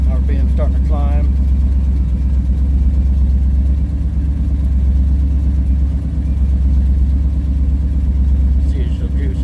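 A hot rod engine idles steadily after a cold start, warming up with a low, continuous rumble that barely varies; someone speaks briefly near the beginning over the engine.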